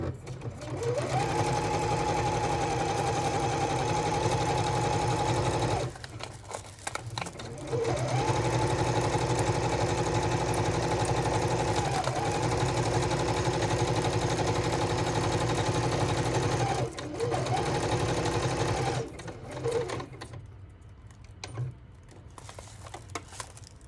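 A sewing machine stitches paper pages for a junk journal, running in fast, steady mechanical bursts separated by short pauses, then stopping near the end.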